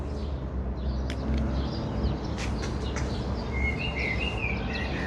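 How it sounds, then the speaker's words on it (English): Birds chirp and sing in the Gethsemane garden, scattered short calls and a few trilling phrases over a steady outdoor background hum. "Can you hear the birds?"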